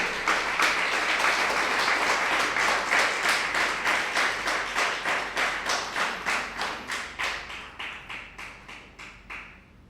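An audience claps for a committee at a Kalyan Nagar Association talk, starting as a loud wash and settling into slow, unified rhythmic claps that gradually fade.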